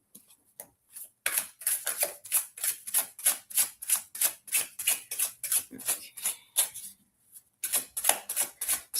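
A deck of playing cards is riffled repeatedly close by, a rapid run of crisp, papery flutters in quick bursts, pausing briefly before starting again, with no talking over it.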